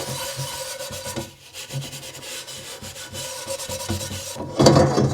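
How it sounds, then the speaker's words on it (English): An SOS pad scrubs gummy, built-up seasoning off cast iron cookware on a stovetop, making a loud, close, gritty rubbing that rasps back and forth in quick strokes and grows harsher near the end. "So I'm going to take some of that off. And I'm going to use my SOS pad."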